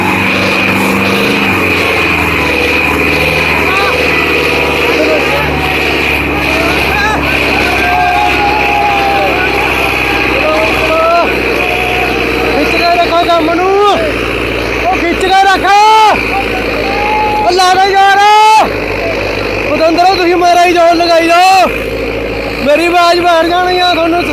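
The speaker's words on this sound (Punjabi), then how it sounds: "ਆ ਦੇਖ ਸਕਦੇ ਹੋ ਕਿਵੇਂ ਪੂਰਾ ਜ਼ੋਰ ਲੱਗਾ ਹੋਇਆ ਟਰੈਕਟਰ ਦਾ" A Sonalika tractor strains at full power hauling a loaded trolley in a trolley-pulling contest, its loud, steady engine drone running throughout while voices and shouts rise over it in the second half.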